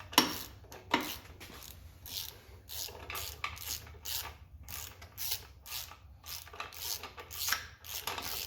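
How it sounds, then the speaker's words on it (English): A Johnson 60 HP outboard powerhead being jiggled to free a stiff bolt, producing repeated rubbing, grinding metal scrapes in an irregular rhythm, close and fairly steady, with no talk. "So I'll just jiggle the power head around a little bit"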